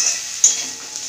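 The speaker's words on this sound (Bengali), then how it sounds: "ভালোভাবে নাড়াচাড়া করব।" Chili, turmeric, coriander and cumin powders with ginger paste are stirred in a hot pan, giving a brief soft sizzle with a single sharp scrape of the spoon, close up and alone.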